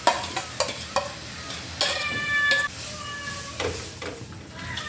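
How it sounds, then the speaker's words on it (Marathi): Urad dal tipped into a hot pan of spiced oil crackles and sizzles, with sharp scraping and clattering of a spoon and pan up close and a few brief tonal squeaks in between. "आता मी हे जे आहे सारी डाळ टाकून देत आहे."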